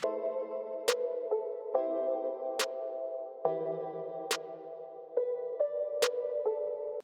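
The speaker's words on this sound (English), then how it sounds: "So this is our double time snare." A soft tonal beat with sustained synth notes, punctuated by sharp double-time snare hits landing on the 3 at a steady spaced rhythm, quiet and without voices.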